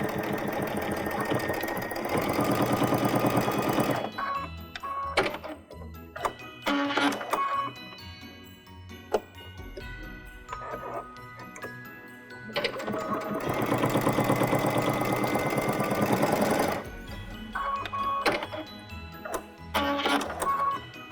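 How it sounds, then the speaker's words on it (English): A sewing machine stitches a patchwork stocking in two long, loud, whirring runs, separated by short stop-start bursts and clicks from the machine, close by with no one talking. "Okay, let's sew this up."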